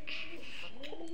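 Pigeons coo close by, with two or three rounded, rolling calls one after another in a brief burst.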